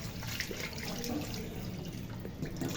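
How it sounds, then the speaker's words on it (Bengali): Raw hilsa fish pieces are rinsed briefly under running water, giving a soft, steady trickle and splash that stays fairly quiet and close, with light dripping throughout. "তো আমি অল্প করেই সুন্দরভাবে ধুয়ে নিলাম।"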